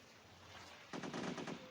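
Rapid gunfire in the mobile shooter Modern Sniper, a quick burst of evenly spaced shots that starts suddenly partway through, quiet and fairly close after a near-silent lead-in.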